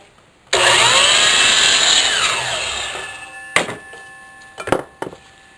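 A saw cuts wood for a jewelry display case with a loud high whine that gradually fades as the blade spins down, followed by a few sharp knocks and clatters up close.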